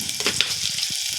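Onions frying in a pan with a pinch of salt, a dense steady sizzle with faint stirring scrapes underneath, close and continuous through the short stretch.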